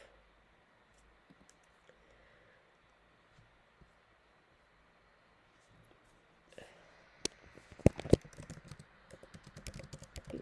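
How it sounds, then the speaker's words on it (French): Typing on a computer keyboard while sending a message in the Element chat app, quiet at first, then a run of fairly close, crisp key clicks with one sharper keystroke for Enter near the end. "j'appuie sur Entrée pour envoyer mon message"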